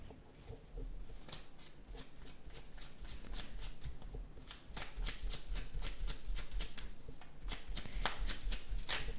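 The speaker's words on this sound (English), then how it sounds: "So I'm going to pull some cards out." Tarot cards shuffled by hand during a reading, giving repeated crisp riffling bursts and soft slaps in an irregular rhythm, close and clear with no talk.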